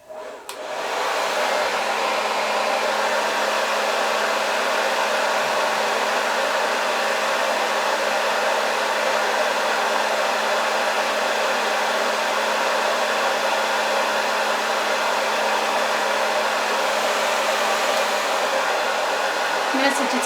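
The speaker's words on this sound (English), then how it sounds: "you put the hair in there before you turn the blow dryer on" A blow dryer fitted with a diffuser runs continuously while drying wavy hair, a loud, even whooshing roar that switches on in the first second and holds steady for twenty seconds.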